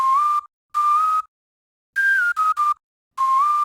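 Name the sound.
whistle one-shot sample without effects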